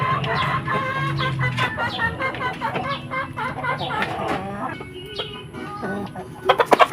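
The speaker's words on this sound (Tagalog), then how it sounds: "Oh si Prada ito oh, yung isang manok." Chickens cluck in a small coop, close and fairly loud, in irregular bursts of clucks and squawks over several seconds, with a few sharp knocks at the end.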